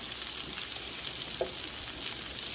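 Smoked sausages fry in a pan for a shrimp boil, a steady close sizzle with a soft scrape or turn as they are flipped partway through.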